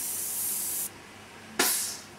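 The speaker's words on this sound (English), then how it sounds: "Make sure I spray any excess off." An airbrush blasts short bursts of paint to clear excess off its needle, one steady hiss that cuts off abruptly, a pause, then a second sharp burst that fades, close and alone.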